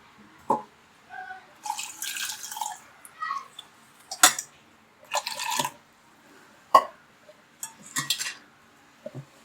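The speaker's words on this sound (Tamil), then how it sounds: "நல்லா வடி கட்டி வச்சு நல்லா ஃபில்டர் பண்ணி எடுத்துருவோம்." Coconut milk strained through a filter in a kitchen, heard as scattered splashes and drips with light clinks of a utensil against a vessel, intermittent and close in a quiet room.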